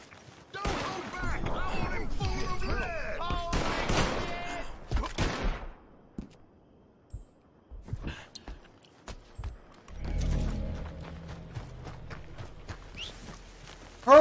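Talking and scattered shots give way to thudding hoofbeats of a horse galloping in the video game Red Dead Redemption 2, with a low rumble and sparse clatter in the later half.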